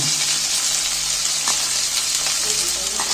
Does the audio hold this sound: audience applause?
no